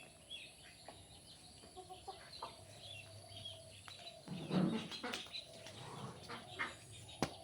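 Backyard chickens kept at a village home alongside goats and ducks cluck softly and intermittently, faint and somewhat distant against quiet outdoor background noise.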